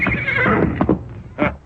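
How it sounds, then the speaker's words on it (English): Horse neighing in an old radio western, a close whinny with several rising bursts and a final loud call, heard alone with no voices. "At the sound of an approaching horse, he jumped to his feet"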